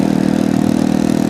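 A motorcycle exhaust runs loud and close in a steady, throbbing idle rumble, a delivery rider's bike heard alone.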